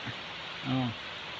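Steady rain falls in Dasmariñas, Cavite, a soft, even hiss throughout, with a brief louder tonal sound rising out of it midway.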